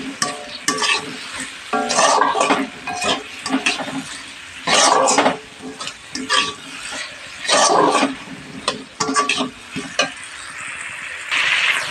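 Onions frying in turmeric-tinted oil in a pan, stirred repeatedly until brown, giving bursts of scraping and sizzling that rise and fall in a steady rhythm over a constant background hiss.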